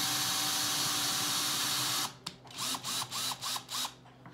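A power drill boring into a golf ball display at a kitchen table runs continuously and loudly for two seconds, then stops and restarts in about six short, rhythmic pulses nearby.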